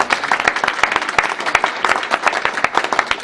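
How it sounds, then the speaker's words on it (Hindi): An audience at a Hindu temple's Gita discourse applauds the swami, with many separate hand claps standing out in a lively, uneven patter that continues without a break. "साथ ही आप सभी जोरदार ताली से स्वामी जी को बजा दीजिए।"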